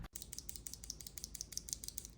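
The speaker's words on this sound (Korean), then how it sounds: "키보드에 끼기 전에 쏘다축이랑 공기축 소리 한번 들려드려 보겠습니다" Soda and air mechanical keyboard switches from a Logitech K98M pressed one after another by hand outside the keyboard, a quick run of about a dozen crisp, light clicks in a faint, close, steady rhythm.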